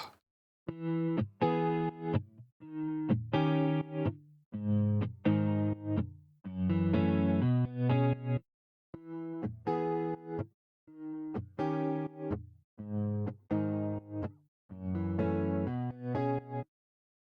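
A distorted synth bass, run through a bass amp, plays a rhythmic riff of short, punchy notes with brief gaps, the phrase repeating through to the end.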